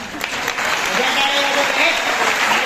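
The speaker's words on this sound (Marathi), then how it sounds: "नको, टाळ्या नको, हृदयावर कोरून घेऊन जा." Loud, steady applause from a large audience at a devotional kirtan gathering in Pimpalgaon Hareshwar, sustained clapping filling the whole stretch with crowd murmur.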